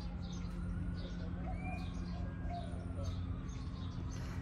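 Soft cooing and scattered chirps from birds drift over a steady low hum and background noise outdoors in Galveston.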